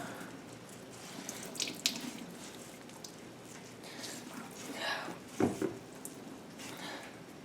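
Water splattering and trickling in uneven bursts as grated potatoes are squeezed out over a sink, with a few wet squishy pulses close by.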